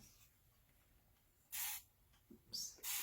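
A small spray bottle spritzes water in three quick, close hissing bursts during chalk craft cleanup, with faint quiet room tone between the sprays.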